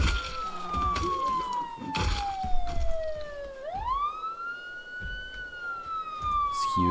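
A wailing alarm siren in the video game Project Zomboid glides down in pitch, then swoops back up and holds, while a voice talks over it.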